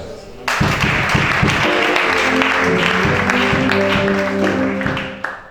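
Congregation applauding during a church prayer and deliverance service, a dense, loud, sustained wash of clapping with rhythmic low thumps underneath, fading slightly at the end.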